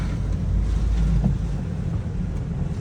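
A car rolls along a rain-flooded village road, its low rumble mixed with a steady rush of water and wind buffeting, continuous and close with no talking.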